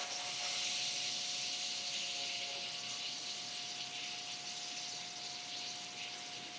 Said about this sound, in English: I'm gonna turn them both on and let them get steamy